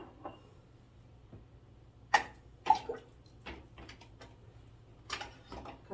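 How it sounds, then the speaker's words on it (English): Glass jam jars are set down into a pot of hot water, giving a few sharp clinks and knocks with light watery sloshing in between, in a quiet kitchen. "I'm going to set them down in this thing of hot water."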